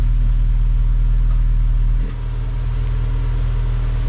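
Exhaust of a Honda Accord CL9 Type R fitted with a big oval muffler, a steady low, throaty idle rumble close to the tailpipe, with a slight dip in level partway through and no talking.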